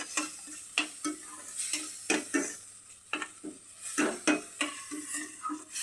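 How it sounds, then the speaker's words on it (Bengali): Spice paste with turmeric and salt frying in a pan, a steady sizzle broken by repeated scraping strokes of a spoon stirring it, close and fairly loud, with no talking. "মশলাটা ভালো মতন ভেজে নিতে হবে"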